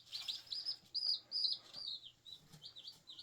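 Baby chicks, some of them Rhode Island types, chirp in a brooder with thin, high-pitched peeps repeating in quick uneven bursts, fairly close but quiet, with no talking.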